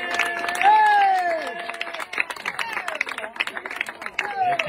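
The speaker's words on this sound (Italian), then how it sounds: "Grande applauso a Sara e Rosetta." An audience at a SuperMarathon event in Orta applauds two runners; the clapping builds and carries on in uneven bursts after a voice speaks over the start.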